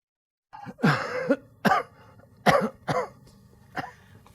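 A person with a lingering cough coughs repeatedly, several harsh separate bursts spaced about a second apart, close and fairly loud against a quiet room.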